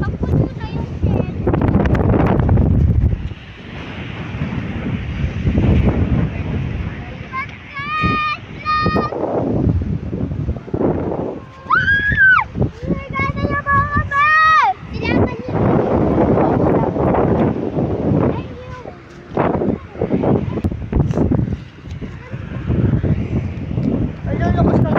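Wind buffets the microphone aboard a boat at sea, a gusty low roar that surges and fades, while several people, including children, talk and call out over it.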